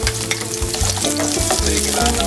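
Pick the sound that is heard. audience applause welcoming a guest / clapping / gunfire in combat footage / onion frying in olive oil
onion frying in olive oil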